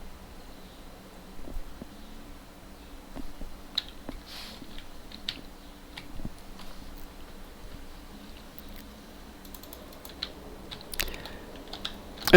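Keys tapping on a computer keyboard with irregular, light clicks and scattered louder strokes, faint and close over a low steady hum.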